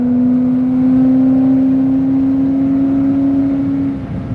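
A car accelerates hard at full throttle, its engine holding a loud, steady drone that climbs slowly in pitch for several seconds before the throttle eases near the end.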